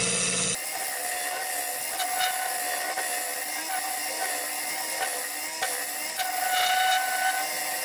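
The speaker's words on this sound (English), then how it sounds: "Round nose scraper, that's all I'm using at the moment." A round nose scraper cuts a segmented wooden bowl spinning on a lathe, giving a steady loud rasping and scraping with small recurring bumps as the tool rides the rotating segments.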